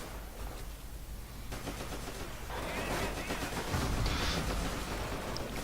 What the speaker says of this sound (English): Okay, they're shooting at me.